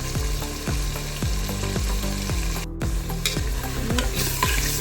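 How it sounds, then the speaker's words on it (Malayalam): Onions with salt sautéed over a high flame for a roasted-coconut chicken curry, a steady loud sizzle broken by repeated rhythmic scrapes and stirs of a spoon against the pan, close up with no talking. "നമുക്കൊരു ഹൈ ഫ്ലെയിമിലിട്ടിട്ട് ഒന്ന് വഴറ്റാം."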